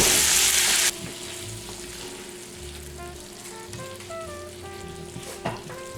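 Canned enchilada sauce poured into a hot pan, a loud burst of bright sizzling that stops after about a second, then settles into a quieter, steady simmer with soft scraping and light clinks.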